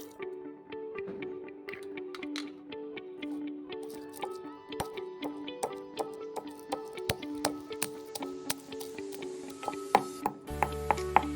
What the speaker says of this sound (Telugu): ఎల్లుల్లిపాయ, జీలకర్ర రోట్లో వేసుకుంటాం.